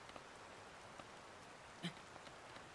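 Rain falls in the video game Zelda: Tears of the Kingdom as a faint, steady hiss of drops, with one brief soft tap partway through.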